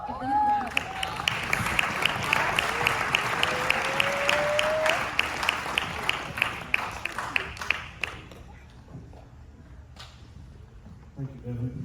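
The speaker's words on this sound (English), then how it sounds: "Give them a round of applause." Crowd applause for a varsity boys team, steady many-handed clapping with a few louder individual claps standing out, thinning after about eight seconds as a voice begins talking.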